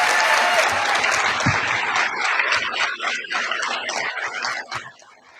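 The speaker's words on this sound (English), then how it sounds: "I want to give Michael a round of applause" Audience at an intercollegiate ethics bowl national championship applauding Michael, with loud, dense clapping that thins out and fades over the last second.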